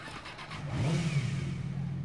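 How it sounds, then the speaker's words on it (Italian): A motorcycle engine in the Watch Dogs PC video game revs up loudly about a second in with a rising roar, then holds at a steady mid-pitched drone. "Eccola qua la moto."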